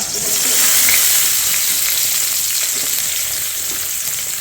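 Cinnamon, cardamom, cloves, cashews and onion frying in hot oil for Afghani chicken kofta curry, making a loud, steady, close sizzle that holds without pause.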